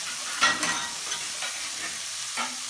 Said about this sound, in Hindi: और ओस्टर सॉस डालकर 3-4 मिनट फ्राई करें।